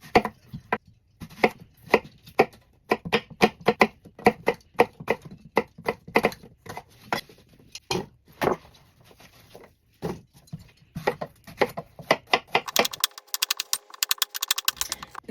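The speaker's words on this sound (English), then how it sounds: "Now, I'm going to start chopping my apples" Apples being chopped with a knife on a board for apple butter, a quick series of sharp, close knife taps in irregular bursts with short pauses, ending with a brief clatter.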